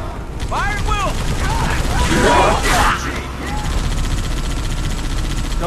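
Squad gunfire in Halo 3 on the Tsavo Highway level, rapid mechanical weapon fire and bursts peaking mid-clip amid game effects, with chirping alien voices early on.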